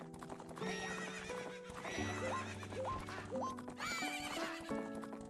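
Video game horse race in a Majora's Mask randomizer, with rapid galloping hoofbeats and repeated neighs over continuous background music and upward-sweeping tones, steady and close, without voices.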